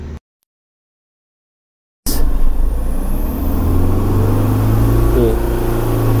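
A Mahindra Scorpio engine revs in first gear as the vehicle pulls away, a loud, steady, rising drone that starts abruptly after two seconds of silence and holds throughout.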